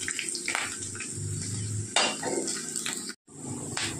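Fenugreek seeds frying in a pan for kadhi pakoda, a soft steady sizzle with clinks of a metal spoon against the pan and a brief scrape, close and low in level.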